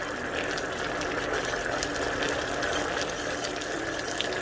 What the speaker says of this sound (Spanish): la disolución se ha tornado un poco más espesa y blanquecina, ya que casi toda el agua ya se ha evaporado